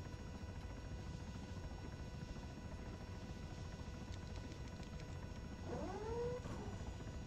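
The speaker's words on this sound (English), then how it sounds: "Did sound like another helicopter got awful close at the apex of that climb" Helicopter rotor noise from an ARMA 3 flight session with a CH-67 Huron, a steady broadband drone filling the clip, with a closer aircraft sweeping past near the end as a rising and falling whine.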